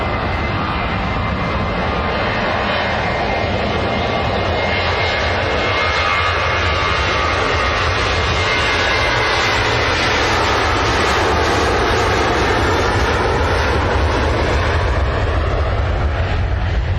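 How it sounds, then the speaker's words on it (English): A Ryanair Boeing 737-800 departs Manchester Airport, its jet engines a loud, continuous broadband roar that stays constant and dominant throughout with no voices. "Ryanair 737-800 just departing there."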